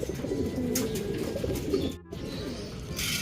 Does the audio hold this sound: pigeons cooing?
yes